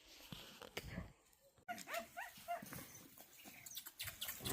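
A female dog at a village farm makes close whimpers and short yelps amid rustling and handling noises, with faint voices in the background.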